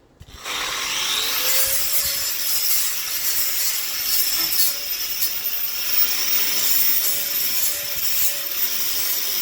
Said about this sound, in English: Just sanding off the edges now with this.